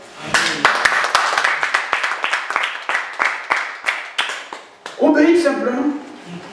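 A church congregation claps along in a steady rhythmic beat, with a voice singing or calling out over the clapping toward the end.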